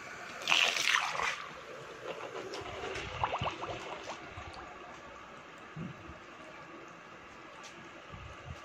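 A running air-cooler motor is lowered into water, making an initial loud splash and sloshing that settle into softer trickling and bubbling, fairly close and without talk.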